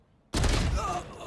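A gunshot in the Valorant video game, a single abrupt loud report that cuts in sharply from near silence and rings briefly before fading slightly.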